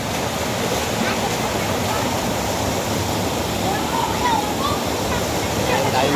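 Water rushes and splashes at Canawa Cold Spring in Candijay, Bohol, where children bathe, a loud continuous roar with faint voices and occasional shouts mixed in.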